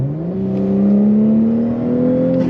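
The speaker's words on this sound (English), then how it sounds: "The engine sounds great. Test out the roll-on acceleration." A 2022 Audi S4 Premium Plus sedan with a lowering kit pulls hard in a roll-on acceleration, its engine note climbing smoothly and steadily as a loud, close drone heard from inside the car.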